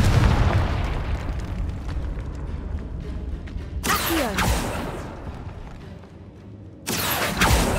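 A Confringo spell goes off in Hogwarts Legacy, first a long rumbling burst, then two sharp, loud explosive blasts with a crackling tail, with no talk.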